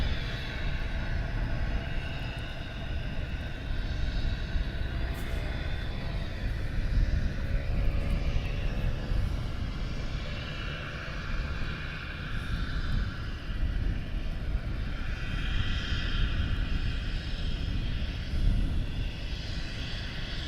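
A Texan propeller training aircraft flies at RAF Valley, its engine a steady, distant drone held under a broad rumble of wind for about twenty seconds.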